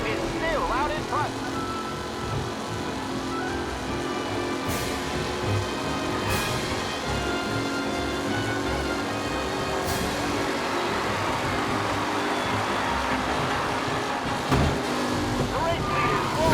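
Vintage race cars in Mafia Definitive Edition, with engines droning continuously at a steady mid distance under a race announcer's commentary.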